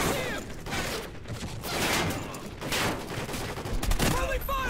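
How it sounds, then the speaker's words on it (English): Suppressing gunfire rattles in Call of Duty: Ghosts as dense bursts of automatic fire with sharp shots and mechanical clatter, loud and continuous, while voices shout in the background. "Lay down suppressing fire!"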